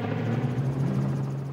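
A helicopter flies overhead above a rally course, its steady rotor drone loud and continuous with a strong low throb throughout, no talking.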